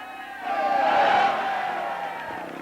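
A crowd of spectators at the 1992 Trial de Montmartre motorcycle trial in Paris cheers and roars in a broad wash of sound that swells after half a second and holds steady.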